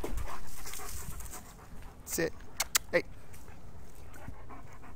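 A dog pants quietly through obedience training, soft and steady close by, while a trainer gives brief spoken commands.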